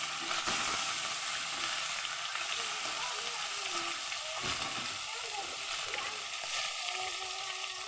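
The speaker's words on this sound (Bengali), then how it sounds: "এই দেখো এখানে আমার তেলগুলো গরম হয়ে গেছে মাছটা আমি ভেজে নেব" Lata fish frying in hot oil, a dense, even crackle and sizzle heard up close and fairly quiet, with occasional splatter bursts and light stirring, running steadily without voices.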